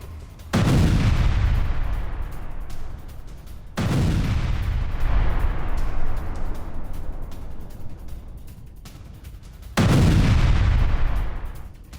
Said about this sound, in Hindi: डोनेस्क में रूस की आर्टिलरी का एक्शन नजर आया है